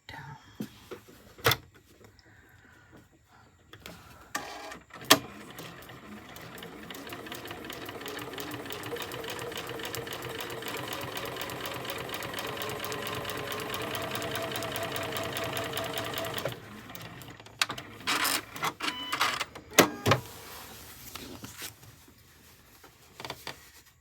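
A sewing machine stitches along a printed line for foundation paper piecing, running steadily for about ten seconds at moderate loudness, framed by a few sharp handling clicks and quiet movement before and after.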